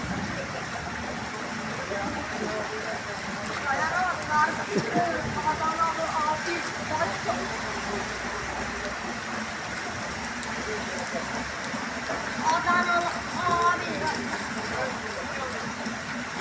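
Steady rain patters across surfaces in a dense, continuous wash, with children talking and shouting over it now and then amid flooding water.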